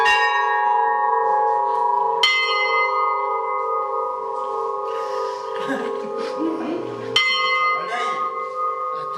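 Church bells in the Loiret near Orléans, traditionally rung by rope with a wooden half-wheel, sound with sustained ringing tones and two fresh strikes, while faint voices murmur underneath.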